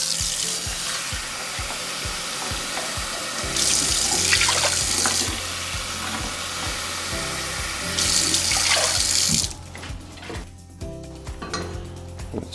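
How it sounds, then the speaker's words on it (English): Tap water pours into a small pot with a steady rushing splash that swells louder twice and then cuts off, leaving quieter kitchen clatter. "in a smaller pot, we are going to mix 2 cups of water"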